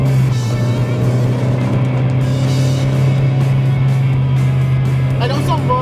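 A Peugeot 205 GTI drives with a loud, steady engine drone heard from inside the car, holding constant throughout while people talk over it.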